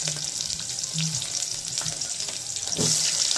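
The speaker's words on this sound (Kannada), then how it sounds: "ಈರುಳ್ಳಿ ಹಾಕ್ತಾಯಿದ್ದೀನಿ" Onion frying in oil for a Mandya-style okra gravy produces a loud, close, crackling sizzle throughout, with some scraping and stirring noises and a brief surge near the end.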